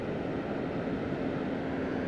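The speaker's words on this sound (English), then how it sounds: "Plane going overhead." An airplane passes overhead at a beach in Taiwan, a steady broad roar of engine noise that fills the whole stretch with no voices.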